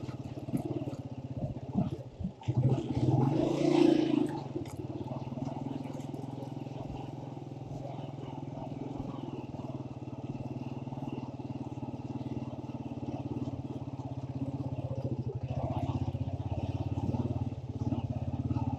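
A motorcycle engine rumbles steadily close by on a slippery, very muddy road, revving briefly with some clattering early on, then idling and chugging along at a low, even drone.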